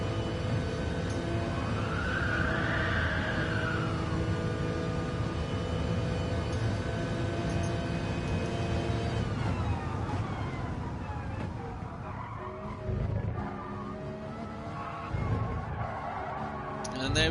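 A Porsche race car in a racing video game, its engine droning steadily while the tires skid and squeal through corners, with a voice talking over it.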